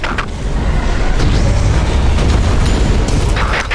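Sustained, loud explosive rumble fills an Earth Defense Force 4.1 battle, a dense booming roar with a few sharper bursts layered on top, and no talk over it.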